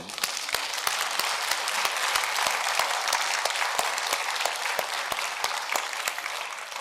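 A church congregation at a Korean brothers' conference claps together, a steady round of applause with distinct close hand claps standing out against the crowd's wash.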